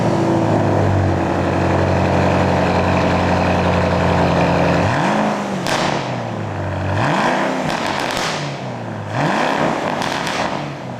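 A Ford Mustang GT engine idles with a deep, loud rumble, then three sharp revs rise and fall at regular intervals, close by.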